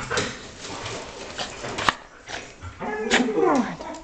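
Dog whimpers and gives short yips and a bark, close by, in a few bursts over about four seconds, with a person talking softly in between.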